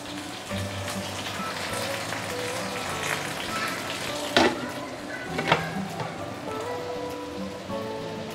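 Fish wrapped in banana leaves fries in a pan over medium-high heat, giving a steady, close crackling sizzle with soft scraping stirs and a couple of sharper pops and clatters.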